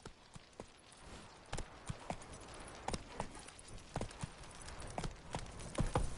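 Horse hooves clopping at a steady pace in The Witcher 3, quiet rhythmic thuds against soft background ambience, with no talking.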